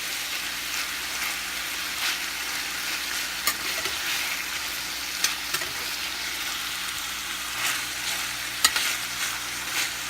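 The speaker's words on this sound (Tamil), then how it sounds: "சிக்கன் வந்து நல்லா ஃப்ரை ஆகிட்டு இருக்குது." Chicken frying for pepper chicken gravy fills the pan with a steady, close sizzle, punctuated by occasional stirring clinks and crackles.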